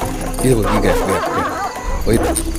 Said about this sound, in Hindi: और हमारा डॉगी भी जोर जोर से भौंक रहा है, आप सुन सकते हो इसकी आवाज़।